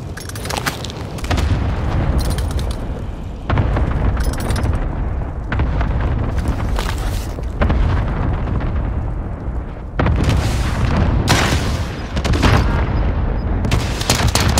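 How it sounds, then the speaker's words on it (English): Cluster strike explosions in a video game roll in as a dense, continuous barrage of loud booms and blasts, with heavy rumbling bursts stacking over one another for about fifteen seconds. "Enemy cluster strike incoming."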